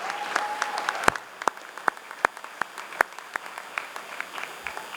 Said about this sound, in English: let's give her a bigger round of applause